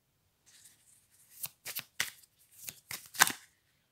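Tarot cards being handled and turned over, a string of about six short, crisp papery flicks and slaps, close and fairly quiet against silence.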